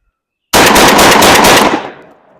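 A Benelli M4 semi-automatic shotgun fires Remington Nitro shells in a rapid, very loud burst of closely spaced blasts that run together for about a second, then echo and decay outdoors.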